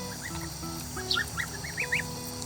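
A tufted Toulouse goose honks repeatedly in short, nasal bursts, several calls close together over a steady low background hum.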